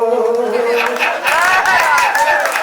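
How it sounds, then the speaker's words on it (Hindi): An audience claps at a Hindi comic poetry recital. A poet's chanting voice comes first, then a burst of scattered hand clapping rises beneath his continued recitation. "तालियां बजा दीजिए"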